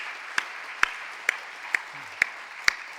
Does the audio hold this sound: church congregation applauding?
yes